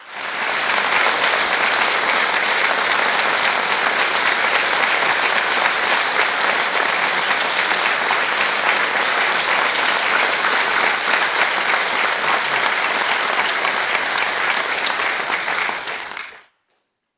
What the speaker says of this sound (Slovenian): dodajmo še aplavz prvemu soboškemu škofu